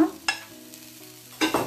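Onion and garlic being quickly sautéed in a pot for a potato tajine: a soft continuous sizzle broken by two sharp scraping stirs of a utensil against the pan, close and without voices.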